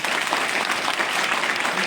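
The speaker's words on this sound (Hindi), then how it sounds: "और थैंक्स कहना चाहता हूँ मैं सत्या सर को, और एक ताली भी चाहूँगा।" Loud, dense audience applause at a team gathering, a continuous close wash of many hands clapping with no pauses.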